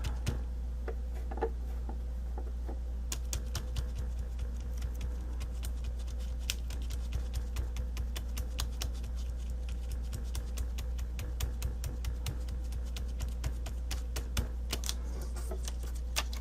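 A pounce pad dabbing paint through a stencil onto a decorative mask: rapid, light, irregular tapping that runs steadily throughout, close and fairly quiet over a low steady hum.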